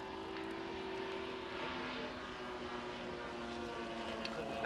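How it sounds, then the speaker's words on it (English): A Corsair aircraft passes over an air show, its propeller engine a steady, fairly faint drone across a few seconds with no talk over it. "That's our Corsair, Marines, John."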